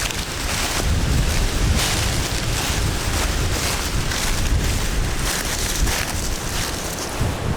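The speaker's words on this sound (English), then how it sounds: "It's a blizzard out here as far as the wind goes." Strong outdoor wind of roughly 20 miles per hour roars continuously as a loud, steady broadband rush buffeting the microphone, with no one talking.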